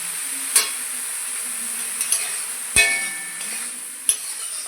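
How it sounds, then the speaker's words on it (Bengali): Soybean chunks fry with turmeric and salt in a pan, a steady close sizzle broken by a few sharp clinks and scrapes of stirring, with no talk. "ভালো করে একটু ভেজে নেব"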